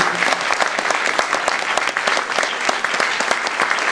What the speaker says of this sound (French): merci de l'applaudir encore une fois